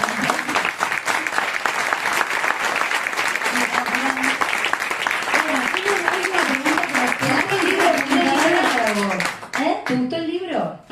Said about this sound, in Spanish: Bueno, muy bien, un aplauso.